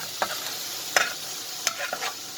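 Minced-meat meatballs for a Moroccan vegetable tagine fry in a pan with a steady soft sizzle, broken by a few sharp scrapes and clinks of a utensil moving them around.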